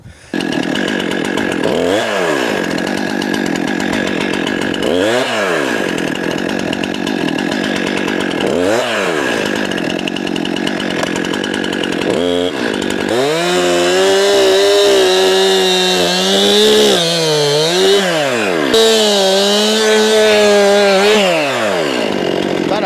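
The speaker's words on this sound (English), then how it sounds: "right now I'm just making firewood" A chainsaw cuts firewood at an Alaskan homestead, loud and close, revving in short bursts before settling into a long, sustained cut that labors and climbs in pitch.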